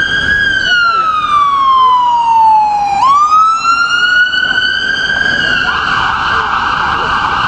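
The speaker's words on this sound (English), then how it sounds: "there's an ambulance coming up the street right now" An ambulance siren passes along a city street, loud and close. Its wail sweeps steadily down in pitch, jumps at the midpoint, then climbs again over a constant rush of traffic.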